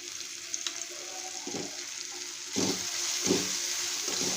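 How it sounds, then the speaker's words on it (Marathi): Turmeric and coriander stirred through hot oil in a pan give a steady close sizzle, with a few louder scraping swishes of the spoon breaking through the frying hiss. "हळद टाकून घेतलेली आहे हळद जरा हलवून घेते"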